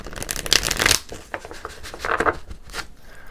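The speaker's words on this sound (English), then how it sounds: "I'm going to do one more shuffle here before we go on." Tarot cards are shuffled by hand in several quick riffling bursts close to the microphone, with brief pauses between them and no talking.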